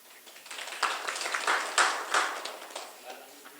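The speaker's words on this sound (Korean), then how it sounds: "큰 박수 부탁드리겠습니다." A policy seminar audience gives light, scattered applause that builds slightly and then tapers off over a few seconds, with a faint voice underneath.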